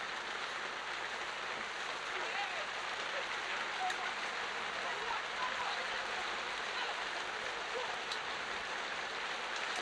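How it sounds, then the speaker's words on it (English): Steady rain pours down during an outdoor football match between Mount Pleasant FA and Tivoli Gardens FC, a constant dense hiss with faint crowd murmur and a few scattered sounds beneath it, unchanging throughout. "here comes the rain again."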